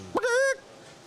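A man imitates a chicken with one short, loud, nasal squawk that bends upward in pitch, heard up close and alone with no talk.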